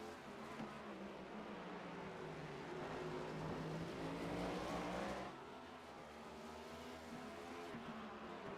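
Race cars at Sonoma Raceway scream past on track, a loud rising engine wail that peaks and then drops off as they move away, with no voices over it.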